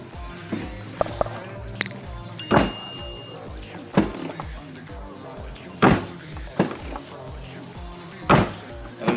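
A C8 Corvette fitted with lambo-style doors is opened and shut, giving several sharp mechanical clunks and thumps spaced a second or two apart, with quieter handling noises and occasional speech in between.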